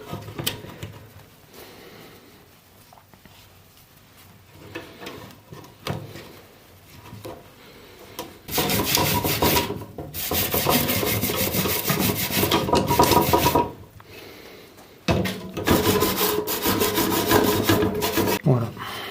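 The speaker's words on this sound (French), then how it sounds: "Pour nettoyer l'intérieur, donc toujours mon chiffon avec mon petit tournevis." A cloth worked with a small screwdriver rubs and scrapes inside a part of a 1960s Louison Bobet Spécial Tour de France bicycle during restoration, first in quiet scattered strokes, then in long, loud, continuous rasping bursts.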